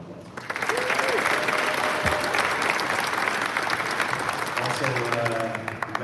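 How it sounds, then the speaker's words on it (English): Audience applause at a press event for the Rochester Knighthawks lacrosse team, a dense sustained clapping from a sizeable crowd that swells quickly and holds steady, with a few voices and faint cheers mixed in. "just want to give him a round of applause"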